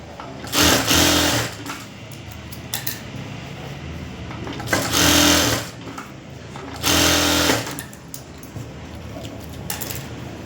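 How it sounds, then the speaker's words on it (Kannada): A sewing machine stitches blouse lining in three short, close bursts of a couple of seconds each, separated by quieter handling of the fabric. "ಈ ಥರ ಒಂದು ಸ್ಟಿಚಿಂಗ್ ಹಾಕ್ಕೊಬಿಡಿ"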